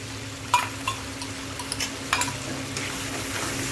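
Dal with yogurt, salt and spices being stirred and sautéed in a pan, a spoon scraping and clinking in a few distinct strokes over a low, steady background sizzle.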